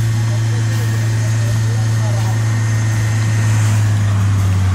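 Mercedes AMG engine running close by with a deep, steady low rumble and no clear rev changes, heard loud and continuous under a voice.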